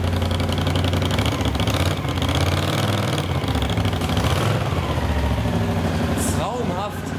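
A cafe racer motorcycle engine runs steadily in a garage and is given some throttle, its rumble continuous and loud throughout while people talk over it.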